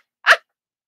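A single short, sharp sneeze bursts out once, close and alone, then silence follows.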